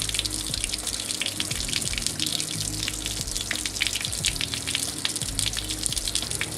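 Water drains steadily from the radiator of a 2008 Lancer during a coolant flush, a continuous splashing trickle with dripping, moderately close and without talk.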